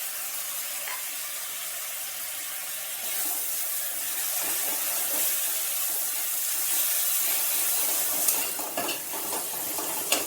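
Chopped tomatoes dropped into chicken curry masala in a pan, giving a steady close sizzle and hiss of frying with faint stirring scrapes, no voices.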